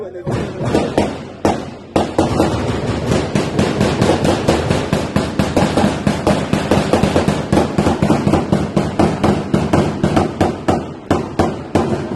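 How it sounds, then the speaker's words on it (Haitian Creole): Gunfire from a police shootout near the Kenscoff police station: loud, rapid bangs rattle out in a nearly unbroken volley, each shot sharp and close, after a brief opening pause. "Yo tire tout."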